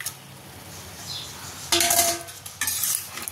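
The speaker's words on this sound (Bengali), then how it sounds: "অল্প একটু কষাবো আগে মাছগুলো দিয়ে" Fried fish being stirred into a pan of spiced prawn kalia, with a metal utensil scraping and clinking in two short bursts after a quiet stretch, faint sizzle beneath, no talk.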